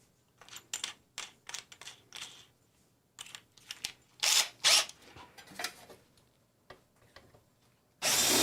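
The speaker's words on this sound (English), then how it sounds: "Just do the big drill bit." A big stepped drill bit boring through a glass fusing kiln part, heard as a series of short, close, irregular grinding bursts with brief gaps between them.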